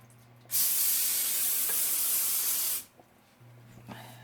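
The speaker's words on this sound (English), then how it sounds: "I grab my handy dandy extra virgin olive oil cooking spray" A steady, loud spray of extra virgin olive oil cooking spray onto foil over a sink hisses for about two seconds, then cuts off abruptly, with quiet room tone before and after.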